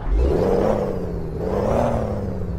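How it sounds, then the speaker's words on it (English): A truck engine in Euro Truck Simulator 2 revs up and settles, a loud rumbling drone that rises and dips in pitch, heard close and alone. "I like the sound of the engine actually."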